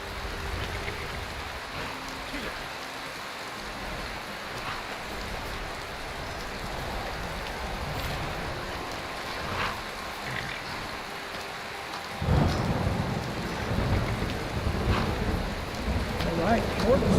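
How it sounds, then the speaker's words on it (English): Steady rain in Skyrim, a continuous hiss of falling drops that grows louder partway through, with a voice talking now and then over it. "Oh, now it's raining."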